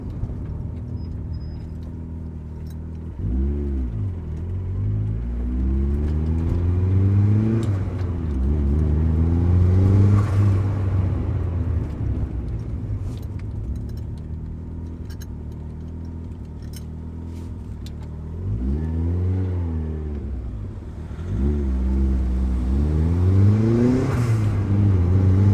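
Turbocharged 280 hp Mazda MX-5 Miata driving with 25 psi boost, its engine heard from inside, droning at a steady pace and revving up in several pulls, with pitch climbing and dropping through gear changes.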